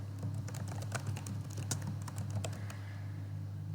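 Steady typing of code on a computer keyboard, a quiet run of close, irregular key clicks with a low hum underneath and no talking.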